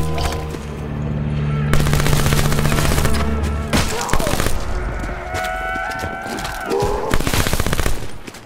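Rapid automatic gunfire in Call of Duty: Black Ops 4 Zombies, loud sustained bursts with short pauses and a few separate shots, over game noise.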